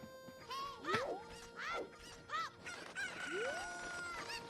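Chickens in the Ocarina of Time Randomizer video game cluck and squawk repeatedly, with a rooster-like crow rising among them, over a steady game music bed; several calls overlap in quick succession.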